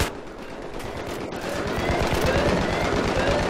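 Rapid automatic gunfire rattles in Battlefield 3 during a rush attack on Gulf of Oman, a fast continuous burst of shots that grows slightly louder and denser over a few seconds.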